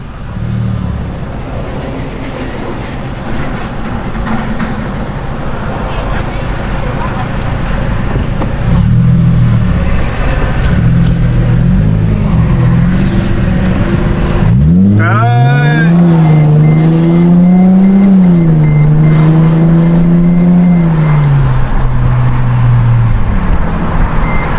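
A Mercedes SLK 350 fitted with a very loud aftermarket exhaust drives on Hong Kong roads, with a steady cabin drone that swells into a strong, booming rev, then rises and falls through gear changes, loud and close.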